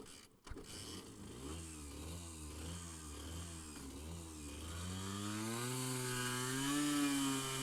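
Honda NSR 50 small two-stroke motorcycle engine revving hard at full throttle, its buzzing pitch rising and falling through several quick revs before climbing steadily as it accelerates away, loud and close throughout.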